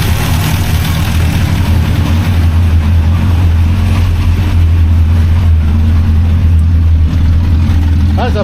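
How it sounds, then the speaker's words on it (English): A Hillman Super Minx car, running rich, drives with a throaty exhaust. The engine holds a steady, close, low drone throughout with no big revs. "That's a pretty throaty exhaust"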